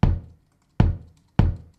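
Three knock-like drum samples played in FL Studio for a beat, each a sharp, dry close hit with a short decay, separated by brief silences.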